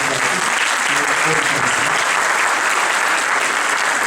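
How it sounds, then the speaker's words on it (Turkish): Loud, sustained audience applause at a folk dance event featuring Aegean zeybek dancing, a dense, even roar of many hands clapping that fills the hall without a break. "yürekten şöyle bir alkışı alırsınız"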